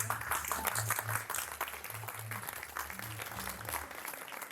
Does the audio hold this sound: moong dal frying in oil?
no